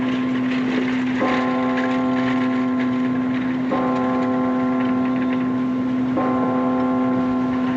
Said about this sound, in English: Something peaceful about a church bell, isn't there